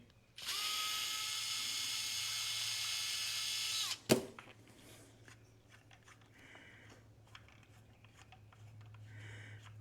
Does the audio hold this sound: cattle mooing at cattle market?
no